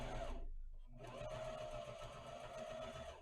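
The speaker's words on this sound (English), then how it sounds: "we're going to go ahead and sew. Backstitch, keep sewing around." Sewing machine stitching a fabric fashion mask, a rapid close mechanical whir that stops briefly for a backstitch and then resumes steadily.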